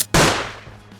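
Airstrike explosion on ground forces in the military video game Arma Antistasi: a single sudden loud blast with a long rumbling decay, heard alone.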